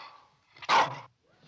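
A dog gives one close, clear bark, short and sharp, set between quieter moments.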